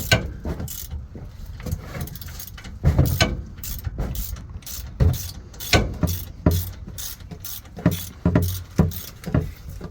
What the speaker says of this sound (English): he's taking the hex head out